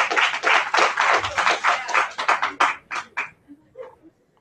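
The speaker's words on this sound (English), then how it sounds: "Round of applause." Clapping at a live show in Bisbee: a burst of rapid claps that loosens into scattered, uneven hits and trails off to silence near the end, close and fairly loud.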